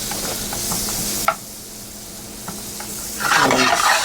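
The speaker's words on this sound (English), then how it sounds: "we swirl that around in our pan" Two tablespoons of butter sizzle and hiss as they are swirled in a hot frying pan, a loud, steady crackle broken by a sharp knock, then a quieter stretch before the sizzling swells again.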